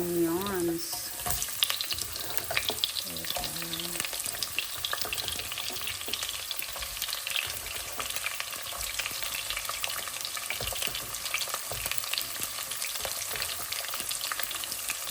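Onions frying in a hot pan, sizzling loudly and steadily throughout, with occasional stirring scrapes and no voices.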